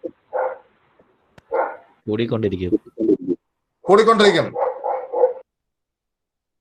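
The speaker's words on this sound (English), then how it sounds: "we can hear barking dogs, a sound of barking dog" A dog gives several short, sharp barks in quick bursts, mixed in with someone talking nearby.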